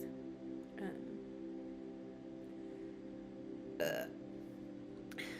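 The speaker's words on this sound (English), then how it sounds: "Excuse me, I have burped countless times." A low, quiet burp rumbles briefly, with a faint steady hum underneath.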